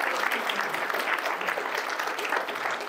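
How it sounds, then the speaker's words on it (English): Steady applause from a convention panel audience at PAX West 2023, dense even clapping sustained throughout at moderate loudness, filling the room without pause. "Okay, clapping."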